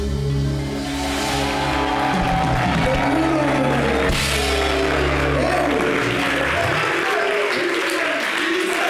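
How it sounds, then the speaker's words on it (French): Live audience applause and cheering right after a singer's song on a French-language TV show, loud and sustained, fading near the end with the music still ringing underneath. "Merci de l'applaudir."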